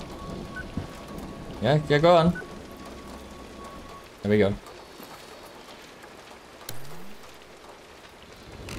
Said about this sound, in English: The rain and the storm sounds fantastic